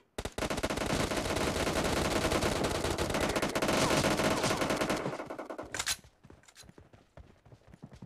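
Rapid automatic gunfire in the mobile shooter PUBG Mobile, a loud sustained burst lasting about five seconds, then a few scattered clicks and quieter game sounds after it stops.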